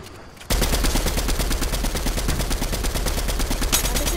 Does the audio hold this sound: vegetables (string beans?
no